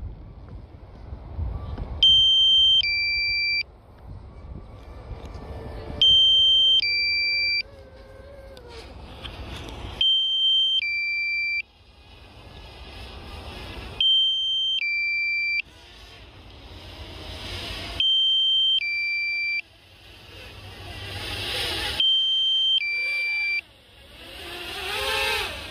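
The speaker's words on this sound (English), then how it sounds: "Low battery warning. You're gonna hear it now." DJI Mavic Air drone sounding its low battery warning: paired electronic beeps repeating about every four seconds over a low outdoor rumble of wind and handling noise.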